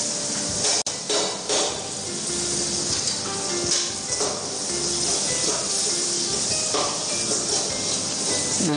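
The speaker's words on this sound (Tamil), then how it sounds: "நல்லா ஃப்ரை பண்ணி வச்சுக்கிறோம் சார்." Masala for cutlets frying in a hot pan, a steady loud sizzling hiss that runs unbroken throughout with faint clinks, and no one speaking.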